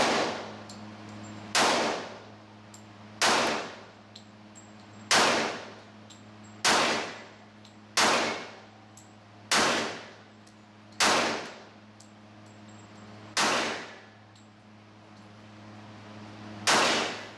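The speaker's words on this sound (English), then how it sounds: "There goes 20 rounds down range of the Springfield" A Springfield .45 ACP pistol fires about ten loud, sharp shots at an outdoor range, spaced unevenly a second or two apart, each with a short ringing decay and no talk between.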